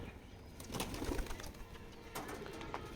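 Pigeons in a coop with young birds, soft low cooing and a few wing flutters, faint and close with no talking.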